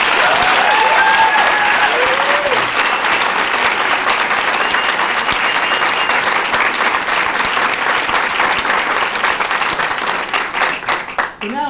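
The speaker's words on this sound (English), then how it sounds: "Round of applause for the judge." Sustained applause from an audience at a diversity monologue event, dense and loud clapping from many hands with a few cheers early on, continuing for about ten seconds before fading out.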